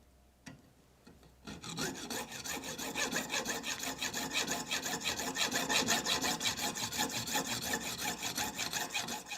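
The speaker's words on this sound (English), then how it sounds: "And now I'll remove as much material as possible with this little hacksaw." A small hacksaw cuts a metal part for the governor of a Farm Boy hit-and-miss engine, a steady run of rasping back-and-forth strokes that starts after a brief quiet opening and stays close and loud throughout.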